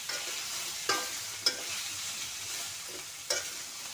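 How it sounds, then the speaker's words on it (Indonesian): Petai beans stir-fried in a pan in a village kitchen, a soft steady sizzle with a few sharp scrapes of the utensil against the pan, fairly quiet and without talk. "Ini digoseng sebentar saja sama petai, lalu dimasukkan bumbu-bumbunya."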